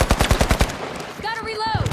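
Machine gun fire in the video game The Finals rattles out in a fast burst of about eight loud shots, then gives way to a brief mechanical whir and clatter.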